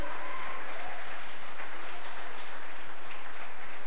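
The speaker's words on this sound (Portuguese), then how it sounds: "Quem concorda comigo, dê um aplauso ao Senhor e diga amém" A church congregation claps together in response to a preacher, a broad, steady wash of applause with a faint rhythmic pulse underneath, continuous and fairly loud with no speech over it.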